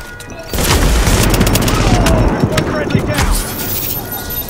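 Loud, close gunfire from weapons in The Division, fired in quick repeated shots with booming impacts and a crash, then trailing off slightly toward the end.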